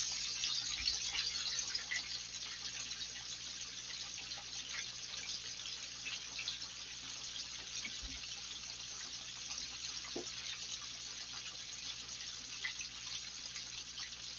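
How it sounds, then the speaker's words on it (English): A kitchen tap runs steadily while hands are rinsed under it, a continuous soft hiss of flowing water with faint splashes, fairly quiet and alone without talk. "I'm going to rinse my hand off real quick."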